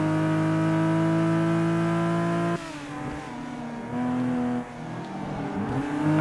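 Engine of a Nissan race car in Forza 5, a loud sustained high whine with strong harmonics that drops abruptly partway through, then rises and falls again with gear changes while the car is driven flat out.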